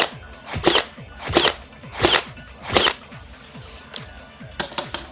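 A Nerf AEG blaster fires worn Adventure Force Pro foam darts in a run of sharp, evenly spaced shots, with about five strong bursts followed by lighter quick clicks, loud and close with no talking.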